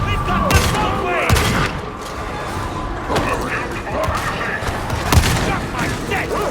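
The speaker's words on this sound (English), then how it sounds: "Deploying Nuncio grenade!" Gunfire and blasts in Warhammer 40k: Darktide as a Nuncio grenade goes off, with a dense, continuous barrage of shots and a few heavier booms. Shouted voices break in now and then over the loud mix.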